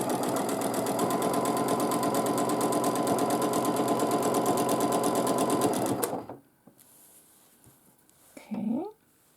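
A domestic sewing machine runs at a fast, even hum while quilting feathers in triangles, then stops abruptly; a brief clunk and shuffle of fabric follow in the quiet.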